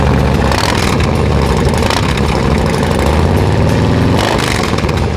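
A loud, steady 2025 Harley-Davidson Fat Boy engine, a 117 motor with Tab Performance exhaust, idles close by, a deep rumbling throb with no talking.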